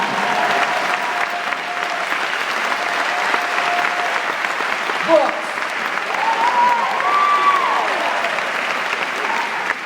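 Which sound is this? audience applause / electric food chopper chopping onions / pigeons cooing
audience applause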